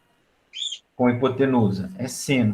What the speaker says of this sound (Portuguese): Tem um passarinho cantando agora.